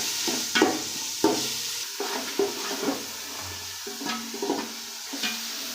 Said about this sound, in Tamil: வெங்காயம் வந்து நல்லா வதங்கிட்டு இருக்குங்க